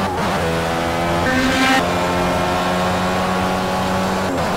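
Indy race car engine in a racing video game, a loud, steady high-revving whine with a brief pitch shift midway, dense and continuous, other cars faintly layered beneath, no voices.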